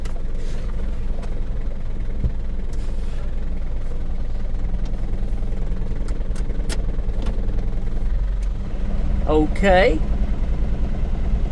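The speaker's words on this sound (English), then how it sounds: "you can hear the compressor coming on and off" A truck engine idles with a steady mid-pitched clatter while the air conditioning compressor cycles on and off. A brief spoken word sits over the running engine, with a sharper burst of activity near the end.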